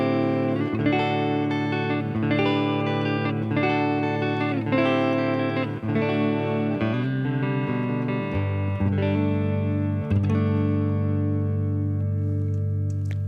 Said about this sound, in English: Neck humbucker, neck single.